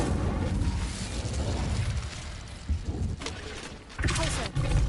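In a wizard video game, the Incendio fire spell is cast: a roaring, crackling burst of flame set within dense continuous game noise, with a voice over it.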